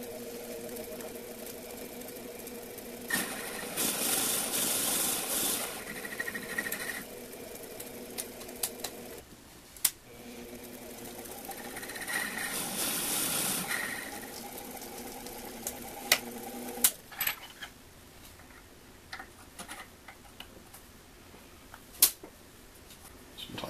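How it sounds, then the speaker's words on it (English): A milling tool counterbores the end of a rewind handle for an organ. A steady machine whir rises into louder cutting bursts twice, then fades to quieter running with small clicks and knocks. "Using a milling tool, I'm going to counterbore the end of this handle to clear this head."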